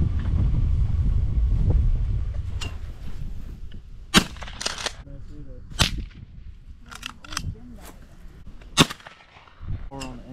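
Shotgun blasts at skeet targets with a Beretta or Remington 870 outdoors in the country, several sharp cracks spread across the clip after a wind-buffeted, rumbling opening, with a little talk in between.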